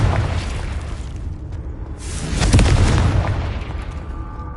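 A fire-blast spell explodes in the video game Hogwarts Legacy, one deep booming burst that swells midway, then a rumbling tail fading out, with no talking.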